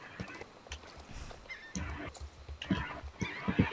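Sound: horse neighing in Star Stable video game

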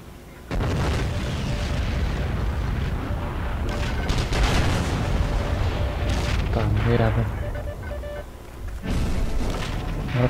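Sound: tank explosion in video game Heroes and Generals

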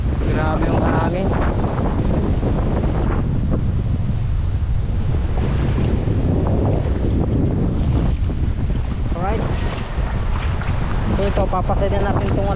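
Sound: strong wind

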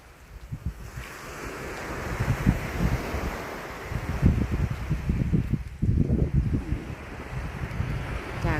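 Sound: sea waves on the Chumphon coast

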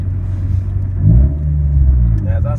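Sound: Honda car engine and road rumble while driving

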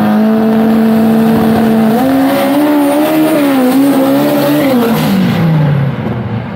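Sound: Chevrolet Chevette racing off the line

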